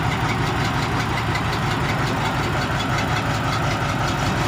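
A logging truck's heavy diesel engine labours loudly and steadily up close on a muddy logging track in the rain, a constant low rumbling drone without a break.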